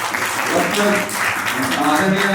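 Applause from an audience at an annual Hindi poetry society celebration and award ceremony, a dense steady clapping filling the hall while someone speaks over it through a loudspeaker.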